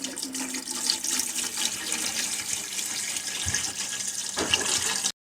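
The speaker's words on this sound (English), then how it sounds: "Now you're going to take a gallon of water and we're going to put it in here." A gallon of water is poured steadily into a cooking pot of softened onions for collard greens, a continuous close splashing rush that runs for several seconds before cutting off.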